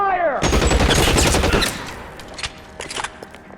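Covering gunfire in the LA Noire video game: a loud, rapid burst of shots lasting over a second, followed by a few scattered single cracks fading into quieter background.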